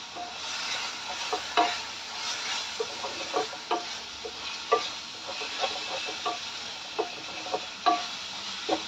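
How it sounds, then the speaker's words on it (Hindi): Onions frying in a pan with a ginger, garlic and green chilli paste: a steady close sizzle broken by regular scraping and clinking strokes of a spoon as the mixture is stirred, with no voices. "उसे भी हम प्याज के साथ भून लेंगे।"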